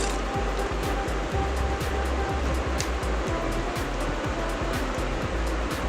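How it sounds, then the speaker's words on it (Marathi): Water for Maggi noodles boils hard in a pot, a dense, continuous bubbling roar with rapid popping bursts, close and steady throughout. "पाण्याला चांगली उकळी आलेली आहे।"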